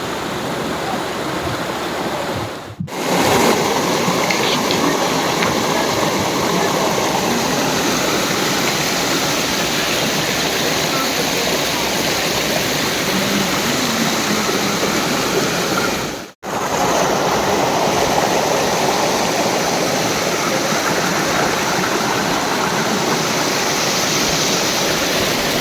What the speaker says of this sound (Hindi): और तुम ये पानी और झरने की तो सिर्फ आवाज सुनो